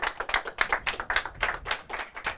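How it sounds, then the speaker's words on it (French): Scattered applause from a small audience welcoming a guest at a presentation, a few people clapping in quick, uneven bursts, fairly close and without speech. "je demande d'accueillir Yannick Lepesquer sous vos applaudissements"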